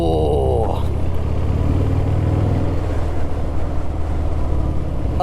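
Harley-Davidson Fat Bob motorcycle accelerating on the road, a loud, deep engine rumble steady throughout with wind noise, after a brief whining pitch shift at the start.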